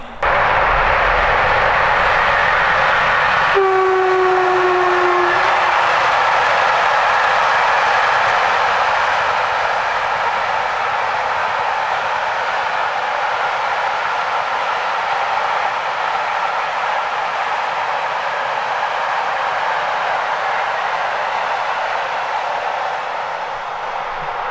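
A nearly empty freight train carrying only two containers rumbles past close by, a broad sustained roar that swells at the start with a brief horn-like tone, then slowly fades over many seconds.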